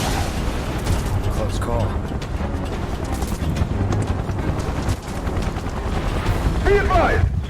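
Gunfire from soldiers in Final Fantasy VII Remake: dense, rapid bursts of shots crackle steadily throughout under loud battle noise, with voices talking over the shooting.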